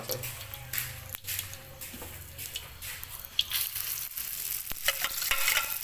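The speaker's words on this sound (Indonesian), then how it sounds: "kayak gini tampilan kalau lagi digoreng" Egg frying in a hot pan with oil, crackling and spattering steadily and close, with scraping and stirring, some clicks, and a voice talking over it.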